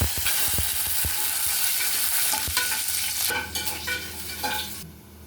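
Onions frying in hot oil with mustard seeds for a potato and pea curry, a steady close sizzle with sharp stirring scrapes and clanks of a spoon against the pan, easing slightly near the end.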